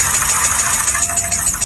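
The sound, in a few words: car engine knocking noise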